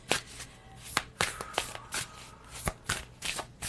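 Tarot cards shuffled by hand, a quick run of crisp riffling snaps and soft slaps in an irregular rhythm, close and fairly quiet.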